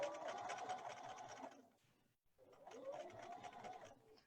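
A sewing machine stitches a placemat seam along a curve, a quiet steady whir that slows to a stop near the middle, then starts again.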